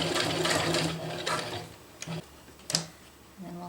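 A sewing machine stitches a small box stitch on a water bottle carrier, with a close, rapid mechanical whir at first, then a few brief starts and ticking clicks between pauses.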